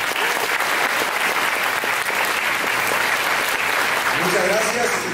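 Sustained applause from an audience fills the whole clip, steady and dense, with a faint voice emerging near the end.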